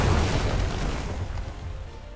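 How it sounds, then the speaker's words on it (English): Ship cannons fire in the naval battle game Uncharted Waters Origin, a heavy booming roar that fades over about two seconds with no voices. "Fire all cannons!"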